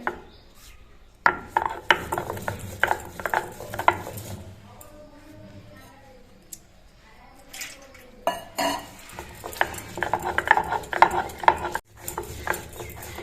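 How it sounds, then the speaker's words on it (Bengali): Gandharaj lemon leaves and green chilies are ground into a paste, with close scraping and rubbing strokes and clinks of hard utensils in irregular bursts, a quieter stretch in the middle. "আমি কয়েকটা কাঁচা লঙ্কা দিয়ে এই পাতা দুটো বেটে নেব"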